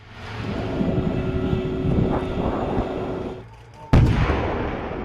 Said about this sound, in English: Live fire gunnery is where the Abrams truly excels.